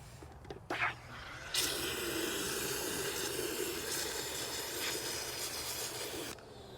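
A steady, loud hiss of a foam gun spraying wheel cleaner on a Subaru Forester's wheels runs for several seconds after a few short clicks and bursts, then cuts off abruptly.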